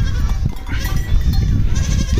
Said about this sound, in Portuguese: Estou literalmente no meio dos bodes.